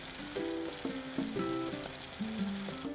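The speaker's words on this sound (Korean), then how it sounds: "모짜렐라 치즈만 넓게 구워줍니다" Mozzarella cheese spread wide and frying in a square pan gives a steady, close sizzle, with a tonal melody playing over it throughout.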